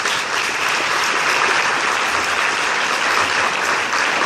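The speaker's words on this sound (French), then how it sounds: "les gens dans la salle vous applaudiront" Audience in a hall at a hypnosis show applauding, a dense, steady burst of clapping from many hands, loud and continuous with no talk over it.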